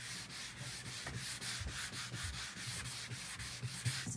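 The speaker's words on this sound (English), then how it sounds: "I'm gonna hit just a little bit with my sanding block" Steady back-and-forth scraping of a sanding block on wood, close up, with even rhythmic strokes roughly every third of a second and no talking.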